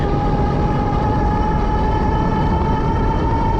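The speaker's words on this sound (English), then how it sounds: "I'm gonna hit the throttle with it" A Mokwheel Obsidian e-bike motor under throttle gives a steady, loud electric whine over heavy rumbling wind and road noise, constant throughout with no speech.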